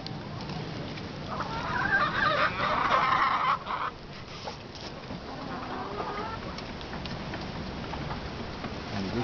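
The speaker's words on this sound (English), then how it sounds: "The chickens and the goose." Backyard chickens and a goose give busy clucking and calling at moderate distance, strongest early on, over a steady outdoor background.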